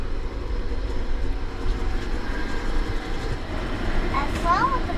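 Inside the hot Shalimar Express 14645 running from Jaisalmer to Jaipur on Indian Railways, a steady low rumble of rolling wheels fills the carriage, with muffled voices talking over it.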